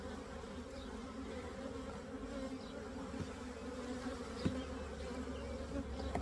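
Honeybees buzzing in an open, very strong hive, a dense steady drone that holds at an even level throughout, close and continuous with no speech.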